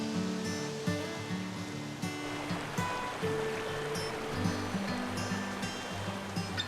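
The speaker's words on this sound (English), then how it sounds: "See the water flowing out into the creek here." Spring water flows out into a creek at Barton Springs near Old Mill Spring, a steady broadband rush and gurgle heard close by outdoors, with a low engine-like drone underneath.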